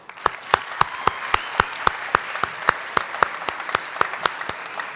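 Applause from an audience at a school debate event, with a few loud, evenly spaced claps close to the microphone standing out over softer clapping throughout.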